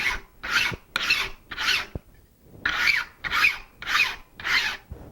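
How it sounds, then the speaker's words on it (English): File stroked across the edge of a steel cabinet scraper card, a group of four rasping strokes, a short pause, then four more, each a close, crisp scrape with a light tap between strokes. "I simply hold this at a 90 to the file, and I stroke it 3 to 4 times."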